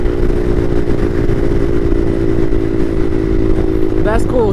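A Bashan Motomax 250 supermoto fitted with a Nibbi PE30 carburettor is ridden at a steady pace, its single-cylinder engine droning loud and close with a constant throbbing note and little change in revs.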